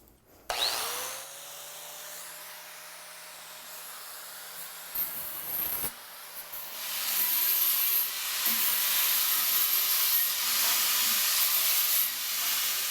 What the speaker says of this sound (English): now that we've removed the burrs on our cut from the inside, we've got a nice smooth edge